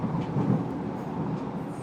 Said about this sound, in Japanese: 列車は奈良井川を渡ります